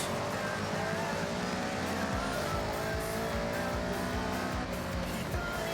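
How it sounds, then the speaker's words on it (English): An Audi race car roars through a Forza race, its engine revving up and down with rising and falling pitch sweeps and tire squeal, loud and continuous with no talking. "Hear that Audi engine though."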